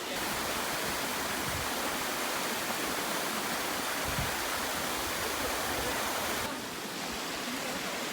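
A cold mountain stream on a hiking trail near Namunukula in the Uva hills of Sri Lanka rushes in a steady, loud broadband wash close by, unbroken for the whole stretch.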